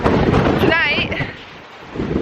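Strong gusts of wind buffet the microphone beside the bridge into Banff at night, a loud rumbling roar that dips briefly and then surges back.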